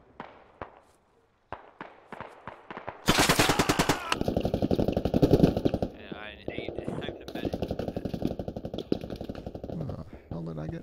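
Rapid automatic gunfire in the tactical shooter Squad: a few sparse shots first, then a long dense burst of loud close fire with brief pauses, voices talking underneath.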